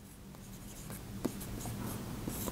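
Handwriting on a surface, faint and close, with soft scratchy strokes and light taps in an irregular rhythm, and no talk.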